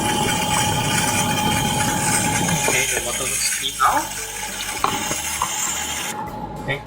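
Water splashes and runs steadily over a K&N air filter from a Triumph Street Triple R while it is rinsed, then thins into lighter trickles and drips near the end.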